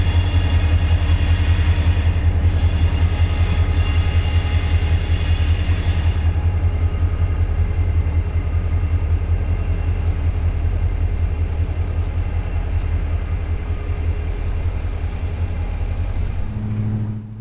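CSX freight train led by engine 4065 rolling past on the M&M Subdivision, a steady loud low rumble of diesel locomotive and rail cars that holds throughout, fading slightly near the end.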